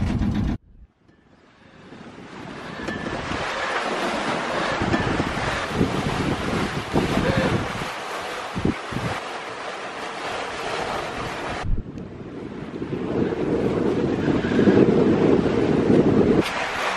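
Strong wind gusts buffet the microphone while waves wash past a sailboat cruising toward Eleuthera in 12 to 15 knots of wind. The roar is steady and loud, with a brief lull and rising surf toward the end.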